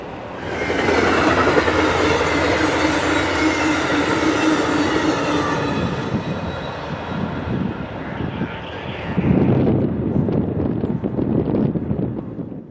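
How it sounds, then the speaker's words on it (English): CSX container freight train I-159 rolls past at St. Johnsville in upstate New York, a loud, steady rumble of wagons with faint wheel squeal, shifting to clattering, rattling cars as the train continues by. "Fresh out of the New York City area with containers from overseas is train I-159 with imported goods from the massive Port Newark"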